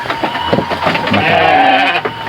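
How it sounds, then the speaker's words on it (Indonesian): Sheep bleating up close near rice fields and a rocky stream, several loud wavering bleats in quick succession with a longer drawn-out cry in the middle. "Domba."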